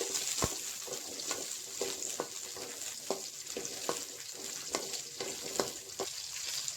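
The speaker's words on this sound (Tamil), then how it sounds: "எண்ணெய் சூடானதும் சின்ன வெங்காயம் ஆட் பண்ணிக்கலாம்." Shallots frying in hot oil for a country chicken curry: a constant soft crackling sizzle, with regular scraping taps of a spatula stirring them in the pan.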